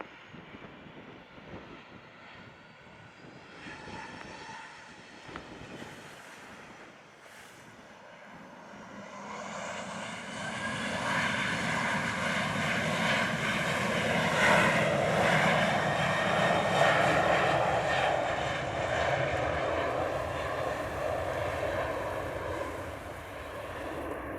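An airliner taking off from runway 7 at Montego Bay, Jamaica: jet engines spool up from a low rumble into a loud, sustained roar that swells and holds steady, heard from nearby with some wind buffeting and no talk.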